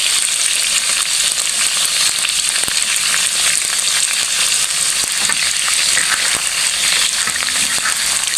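Chicken liver deep frying in hot oil makes a loud, dense, continuous crackling sizzle with frequent sharp pops, close up and without any talk.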